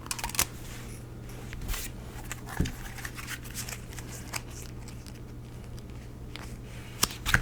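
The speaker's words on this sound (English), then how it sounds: "I do pre-shuffle all my cards every day" A deck of tarot cards being shuffled by hand, giving soft riffling and sliding scrapes in irregular bursts with a few sharper taps, close and fairly quiet, no talking.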